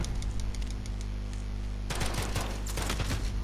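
Video game gunfire in a classic gun-game mode, faint ticking shots at first, then a dense burst of rapid overlapping shots from about two seconds on.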